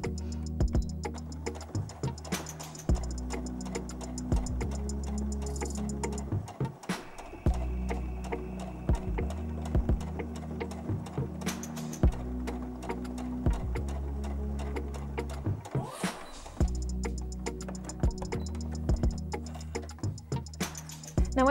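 A sewing machine straight-stitches with a lengthened stitch through a bulky doubled-over fabric seam, running in rapid ticking bursts separated by short pauses, close and clear, with no talk.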